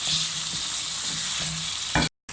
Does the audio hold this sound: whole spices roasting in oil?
yes